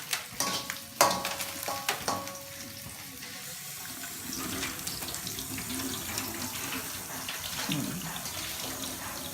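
Water runs steadily from a tap into a sink, with clinks and clatter of dishes being handled at the start.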